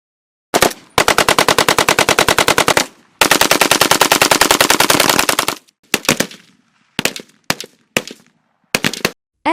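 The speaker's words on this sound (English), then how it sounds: "M16 assault rifle." An M16 assault rifle fires loud, close bursts: a long rapid string of shots, a brief pause, another sustained burst, then several short clusters of two or three rounds with silence between.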